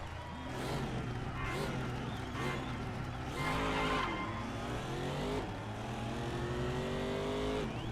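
Race car engine in a racing video game, driving uphill: a loud, steady engine drone climbing and dropping in pitch through gear changes, continuous for the whole stretch with faint voice underneath.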